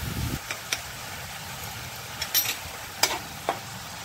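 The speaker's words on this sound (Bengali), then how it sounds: "এটা এখন আমি খুব ভালোভাবে কষিয়ে নিই পেঁয়াজের র গন্ধটা চলে যাওয়া অব্দি" Onions sautéing in a pan with ginger, green chili and garlic paste, a low steady sizzle with scattered brief scraping strokes of a spoon, fairly quiet and close with no talking.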